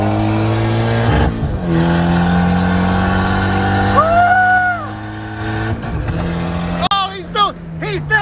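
Nissan S13 car engine revving hard through a gear pull, a steady loud drone with a rising whine mid-way and a brief dip before climbing again, people talking over it near the end.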